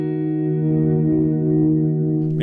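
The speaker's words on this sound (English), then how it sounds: "we can hear the amount of reverb increasing there" A sustained electric guitar chord rings through a Fender Hammertone Reverb pedal, steady and loud, its tail growing washier as the reverb level rises, ending with a brief pick scrape.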